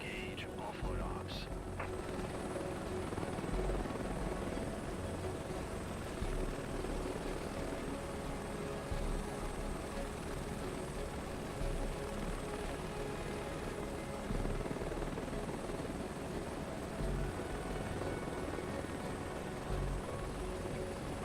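Helicopter rotor and turbine drone from a search-and-rescue helicopter in Microsoft Flight Simulator 2024, steady and loud for the whole stretch with a constant whine on top, while someone talks over it throughout.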